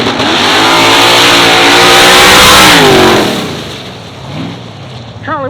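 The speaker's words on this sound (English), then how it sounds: "What a burnout from Steve Penrod, truck construction worker" A construction worker's truck does a burnout at a drag strip exhibition, its engine roaring loud and sustained with revving and tire squeal, then easing off toward the end.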